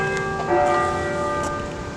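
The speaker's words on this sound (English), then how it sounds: "Weird time for the bells to be ringing, but as you could probably tell from the bells and the surroundings, we're at the church." Church bells ringing outside a church at 5:45, a steady sustained metallic tone with a few strokes ringing out over a continuous hum, no talking.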